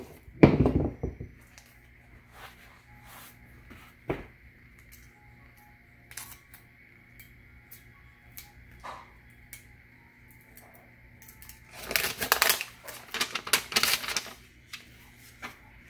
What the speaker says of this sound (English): we removed it from the oven and we're gonna unwrap it